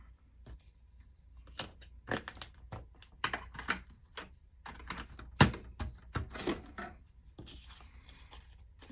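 Scissors cutting through stamped paper labels, a run of crisp snips and rustles close up, with small handling noises between cuts and no talking.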